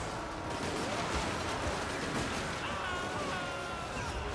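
Dwarf guns fire in a Total War: Warhammer 2 battle, a dense, distant crackle of volleys blending into a continuous roar of combat noise.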